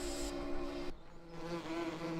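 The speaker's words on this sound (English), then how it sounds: "There they are working. Let's get a picture of some bees, shall we?" Bees in a farming video game hum in a steady, unbroken drone that shifts pitch partway through and stays loud and close throughout.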